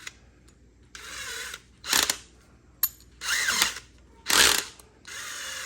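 A power drill driving a screw into a garage ceiling while mounting an LED shop light, whirring in several short bursts with pauses, alternating forward and reverse with a ratcheting clutch chatter, close and loud.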